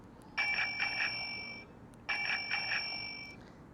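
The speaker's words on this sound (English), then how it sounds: "There's the bell sound," An electric bike horn sounds a bright, ringing bicycle-bell chime twice in a row. Each ring is clear and close, lasts just over a second, and fades slowly before the next.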